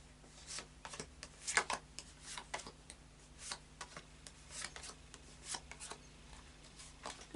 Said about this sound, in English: Bit more of a shuffle for you.